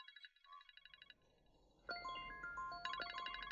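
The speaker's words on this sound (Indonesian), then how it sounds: "Keluar dan jawab telepon." Mobile phone ringtone ringing indoors, a short burst of electronic chimes, then a pause and a louder, brighter melodic tone pattern that repeats near the end, fairly faint overall.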